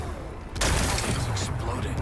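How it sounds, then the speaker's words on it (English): A blast of explosives in Horizon Forbidden West breaking away rocks to expose a power cell: one sudden loud boom erupts partway through, followed by a sustained rumbling roar of debris. "Gotta blast away some rocks, so I can expose the power cell"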